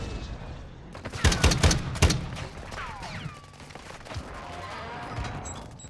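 Gunshots in a video game firefight: a quick cluster of loud sharp cracks early on, then scattered fainter shots and whizzing effects trailing off.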